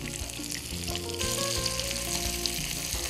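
Flattened chicken pieces for kalmi kabab sizzle loudly in a hot pan, a dense close frying hiss that swells as more pieces land, with no talking.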